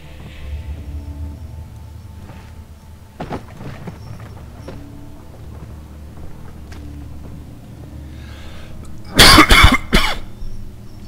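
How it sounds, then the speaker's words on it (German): A person coughs in a harsh, loud burst of several coughs near the end, after a long stretch of quiet, low background ambience. "hab irgendwie gerade so einen kleinen Hustenreiz"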